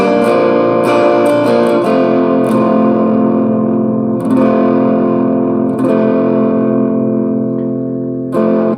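Electric guitar played through a clean boost pedal with its soft clipping diodes removed, giving a loud, gritty, saturated tone; strummed chords ring continuously with a few sharp pick attacks, alone and up close.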